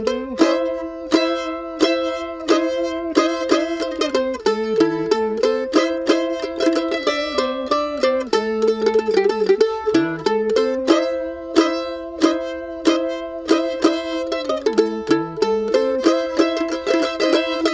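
A bluegrass tune, its C part picked on mandolin, note for note: a steady run of bright plucked notes with quick rhythmic chops, played alone without talk for the whole stretch.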